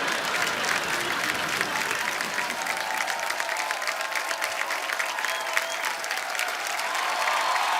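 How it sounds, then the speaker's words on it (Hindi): Sustained applause from an audience fills the whole stretch, dense and steady clapping with a faint crowd murmur underneath. "उनके लिए जोरदार तालियां।"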